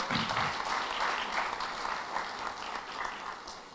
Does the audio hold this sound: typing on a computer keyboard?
no